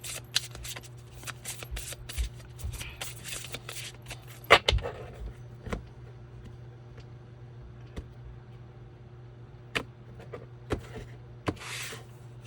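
Oracle cards are shuffled by hand, giving a steady stream of soft riffling and flicking with occasional sharper taps and slaps. The sound is close and continuous over a low background hum.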